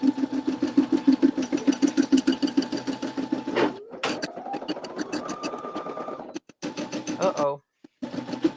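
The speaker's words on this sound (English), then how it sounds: "And then start stitching." An in-the-hoop embroidery machine stitches a denim zipper pouch with a rapid, steady mechanical whir and rhythmic needle thumps up close. The machine stops and restarts, and a rising motor tone runs through the pauses.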